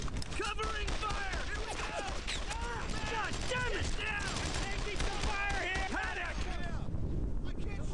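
Dense gunfire from the World War II shooter game Brothers in Arms: Earned in Blood, with rapid overlapping rifle and machine-gun bursts over constant battle noise and shouting voices.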